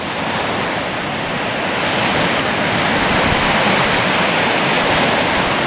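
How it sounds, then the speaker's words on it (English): Steady roar of Lake Michigan surf breaking on a beach at Whitefish Dunes State Park, Wisconsin, in late November, a continuous wash of crashing water with no voices. "Wow, there's some waves."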